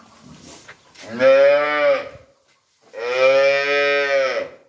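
A young bull calf at a dairy farm in Dinajpur moos twice, each a loud, close, sustained call of under a second, separated by a short pause, with a little faint background noise between them.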